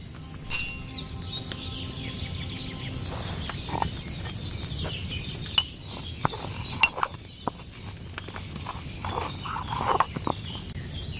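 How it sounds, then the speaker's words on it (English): Sage ground with a mortar and pestle in Kingdom Come Deliverance 2 gives a series of irregular scraping, clicking knocks, moderately close, over a low background hum. "take 1 handful of sage, grind it with a mortar and pestle"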